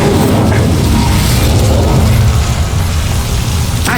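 A fiery spell blast roars in the Hogwarts Legacy video game, a dense, loud rumbling whoosh of flame with crackling texture sustained steadily for several seconds.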